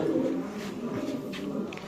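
Pigeons of the Ajay Sinha line coo in low, soft, rolling murmurs that continue without a break, close by but fairly quiet.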